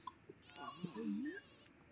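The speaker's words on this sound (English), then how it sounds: "instead I got the Dalmatian sheep" A Dalmatian sheep in The Sims 4 gives a single faint, quavering bleat lasting about a second, with a brief click just before it.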